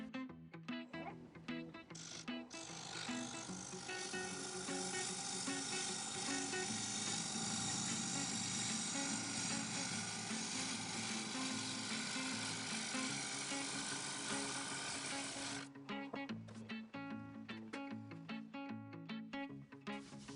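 Wood lathe spinning a birch burl bowl blank at 1000 RPM, a loud steady whirring drone with a rough, slightly shaky tone that holds for about thirteen seconds before stopping into clattering shop noise.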